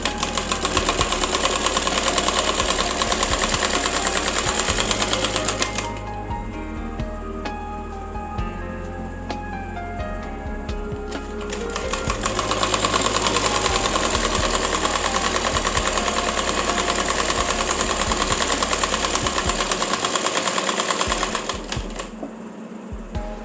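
A sewing machine runs in two long, loud bursts of rapid, even stitching while double-sewing a child's umbrella frock, with a quieter pause between runs and the motor winding down at the end.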